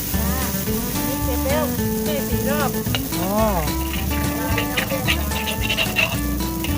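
Khanom la batter frying in a hot pan in Pak Phanang, a loud continuous sizzle and crackle with scraping as the pan is worked, while voices chatter faintly underneath.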